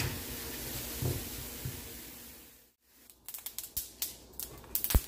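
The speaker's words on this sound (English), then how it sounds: "Is it just me or the popping of this thing sound is so satisfying?" A steady sizzle gives way to scattered sharp pops and crackles, close and irregular, as food for Liberian fufu and soup spits in hot oil.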